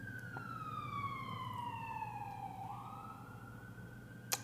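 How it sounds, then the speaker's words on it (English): An ambulance siren outside in Baltimore wails at a distance, a single long tone sliding slowly downward then rising again, faint beneath steady room hum. "That's why there's an ambulance. I don't even know if you guys heard the sirens, but I heard them."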